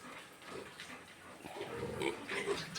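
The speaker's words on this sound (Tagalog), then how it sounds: "Yung mga baboy." Farm pigs grunt and snuffle in a pen, with a steady stream of low, rough oinks at moderate distance and some higher squeaks over a busy background.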